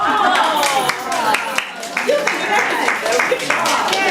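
Scattered clapping from a glee club audience at a spring concert, uneven and moderately close, mixed with voices talking over it.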